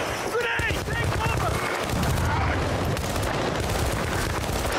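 Gunfire in the Battlefield: Bad Company 2 shooter, with rapid, loud shots and bursts rattling over a dense battle din, one sharp report standing out near the start.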